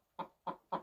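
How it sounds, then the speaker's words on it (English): A backyard hen sings her egg song, three evenly spaced loud clucks close by, with no other sounds. "this is the egg song that a chicken lays"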